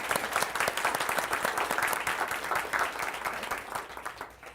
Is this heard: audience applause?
yes